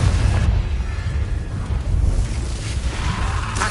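A Confringo explosion spell goes off in the game Hexstrap, a loud, rumbling blast with dense low roar and bursts of crackling, steady and close throughout the short stretch.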